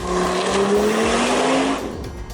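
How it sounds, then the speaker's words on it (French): The exhaust of a 2013 Audi RSQ3 with 310 horsepower rises in pitch as the engine revs hard, a loud, close, brief burst of throaty engine note. "Ce qui ne change cependant pas, c'est sa sonorité fantastique à l'échappement."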